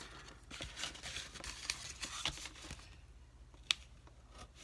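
Paper snipped with scissors while making a diamond fold card: a few quiet, crisp cuts and a light rustle close by, then a single sharper snip near the end over low background noise.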